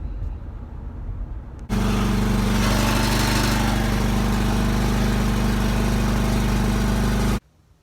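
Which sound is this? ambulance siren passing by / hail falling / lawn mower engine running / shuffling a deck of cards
lawn mower engine running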